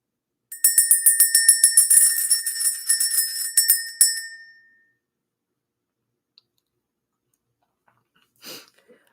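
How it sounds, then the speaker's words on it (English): A small bell rung to clear energy gives a fast run of bright, ringing strikes for a few seconds, then fades into silence, with a faint brief rustle near the end. "Let's ring the bell."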